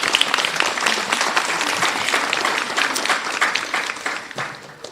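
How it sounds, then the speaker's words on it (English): Audience applause at a university nursing pinning recognition ceremony, a dense, steady wash of many hands clapping that carries on for several seconds and tapers slightly toward the end, with no voices over it. "Let's give our President a round of applause,"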